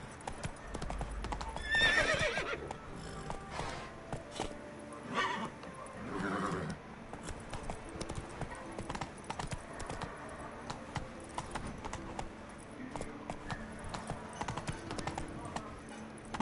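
Roach the horse gallops in The Witcher 3, hooves clip-clopping in a steady rhythm alongside snorts and a whinny, with game ambience and music underneath throughout.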